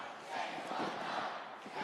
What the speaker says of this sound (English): And the crowd are just absolutely erupting here.